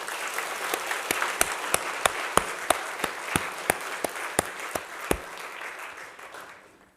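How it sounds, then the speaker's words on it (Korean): A church congregation applauds a quartet after its hymn, with a wash of crowd clapping and a few loud rhythmic claps standing out before the sound fades away. "다시 한번 크게 박수하시죠"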